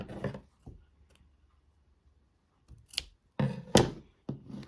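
Sharp scissor snips cutting crochet yarn tails, a couple of quick early snips, a pause, then three louder close cuts in a row.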